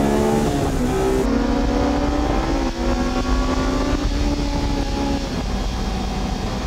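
A Honda race car, with a Spoon Civic EK9 and an S2000 nearby, holds a sustained high-rev engine note on a track, its pitch shifting and then easing. Loud and continuous throughout, with no voices.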